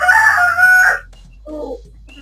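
A rooster crows loudly and close on a poultry farm kept with hens, one long strained call followed by a softer short cluck, alone without talk.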